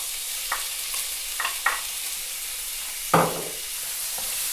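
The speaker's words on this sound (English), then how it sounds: "We're going to start to cook that down." Squid and onions sizzle steadily in a hot pan, a constant bright hiss with a few soft scrapes and a louder clatter of stirring near the end, no voices.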